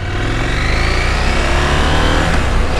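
A KTM 790/890 motorcycle engine runs loud and close, with a steady throaty drone that rises slightly in pitch as it revs, with no speech over it.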